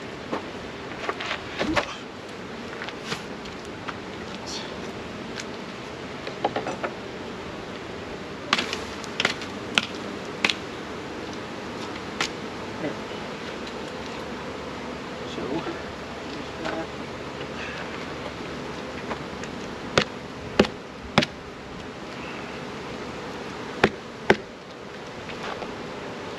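Swarm of honeybees buzzing loudly and continuously after a full hive box was dropped, a dense droning hum with scattered knocks and taps, and a voice briefly speaking.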